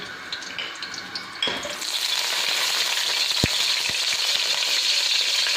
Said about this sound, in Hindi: यहाँ पे हमने कढ़ाई में घी डाला है। अब इसमें इलायची के दाने डाल देंगे।